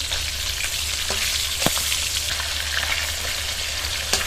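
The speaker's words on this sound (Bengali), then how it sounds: "মাছের একটা পিঠ ভালো মতো হয়ে গেলে আরেকটা পিঠ উল্টে দিতে হবে ভাজার জন্য।" Mrigal fish pieces fry in hot oil and are turned to cook the other side. A constant close sizzle carries a few sharp clicks and taps from the pan.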